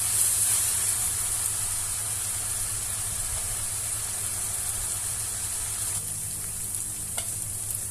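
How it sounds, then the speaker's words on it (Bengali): Spice paste frying in hot oil for a country-style chicken curry gives a steady, close sizzle that runs evenly through the whole stretch, with a few soft stirring scrapes near the end and no voices. "মশলাটা আমরা একটু তেলে ভেজে নিব।"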